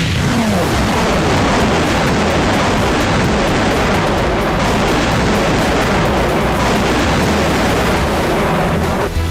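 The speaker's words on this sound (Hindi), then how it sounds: "मल्टी बैरल रॉकेट लॉन्चर से दनादन गोलों की बरसात।" A multi-barrel rocket launcher fires rounds in the Armenia–Azerbaijan war, a dense, loud, continuous roar of blasts and rushing noise with no clear gaps.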